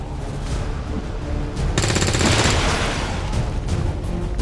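Gunfire in the X-COM video game: a dense, loud burst of rapid automatic shots over a steady background rumble, lasting a couple of seconds and standing alone without speech.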